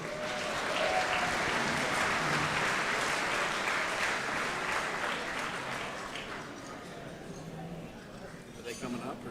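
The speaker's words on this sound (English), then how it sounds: "So how about a great big round of applause for everybody who makes this happen for us every week." A crowd at a speedway Night of Champions breaks into sustained applause with scattered cheers, loud and dense before thinning toward the end, while a voice talks over it.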